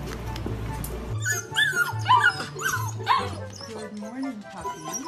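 A puppy whimpers and yips in a string of high, wavering cries, close by, with a low hum underneath.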